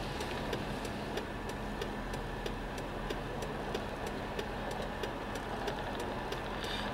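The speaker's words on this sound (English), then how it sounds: "I'm driving in a car and on my way to work" A car engine hums steadily while driving, a low continuous drone inside the cabin with a faint regular ticking over it, moderately quiet and with no talk.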